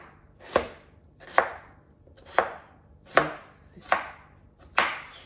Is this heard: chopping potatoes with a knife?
yes